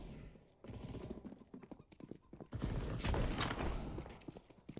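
Gunfire in the video game CS:GO, with sharp, rapid shots crackling in clustered bursts that grow denser and louder toward the end, set against a busy game background.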